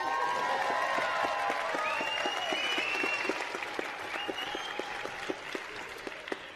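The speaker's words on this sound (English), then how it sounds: "So you can really clap and make some noise." Graduation ceremony audience in a large hall applauding steadily for several seconds, a dense wash of clapping with some sharper individual claps, while a faint voice carries over it.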